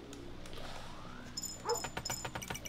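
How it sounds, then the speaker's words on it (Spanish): Dog barks in the video game Kingdom Eighties, a few short yips arriving over steady game music and ambience in the second half. "Está el perro ladrando"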